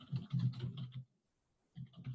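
Keys clattering on a computer keyboard in a quick, close burst of typing, a short pause, then another brief run of keystrokes, with no voices.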